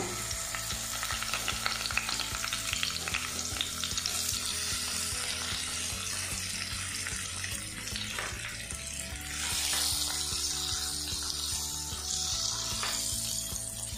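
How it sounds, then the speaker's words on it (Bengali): Steamed pointed gourd pieces frying in white oil with a pinch of turmeric, giving a steady, dense sizzle with metallic stirring clinks and scrapes throughout, close and fairly loud, with no talking. "এবার এর মধ্যে ভাপা পটলগুলো দিয়ে দেবো, দিয়ে আমি এগুলো ভাজা ভাজা করে নেব।"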